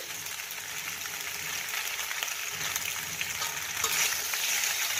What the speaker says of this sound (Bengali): এটা একটু নাড়াচাড়া করে দিচ্ছি, একটু নাড়াচাড়া করে নিলাম।